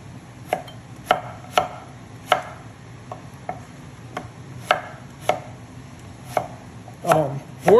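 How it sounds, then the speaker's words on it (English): Sharp knife chopping through food on a cutting board while preparing borscht with lobster, evenly spaced single cuts about every half second to second, crisp and close, ending in a quicker flurry of strokes, with no talk. "You could just see this knife just slides right through anything like butter."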